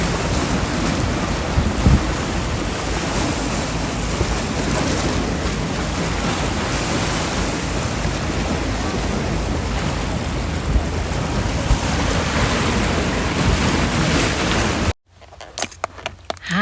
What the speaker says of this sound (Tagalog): the boat is coming